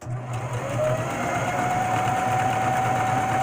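A sewing machine stitches fabric in a steady, close, continuous whir with a faint rhythmic pulse and a rising whine, running without pause for the whole few seconds.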